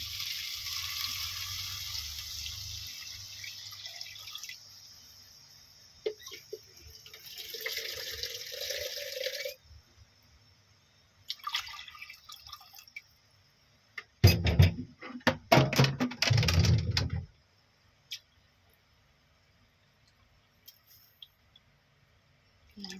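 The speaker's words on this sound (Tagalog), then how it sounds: "lagyan na po natin siya ng tubig" Water from a tap runs into a pot of rice being cooked, a steady hiss of flowing water followed by quieter trickles and a few close, sharp clanks and splashes before it falls silent.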